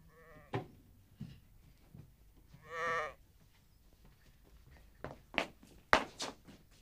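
A sheep bleats, with one long wavering bleat in the middle and shorter bleats before it, heard fairly close indoors amid knocks and scuffles as a family meets the animal brought home in a TV drama scene.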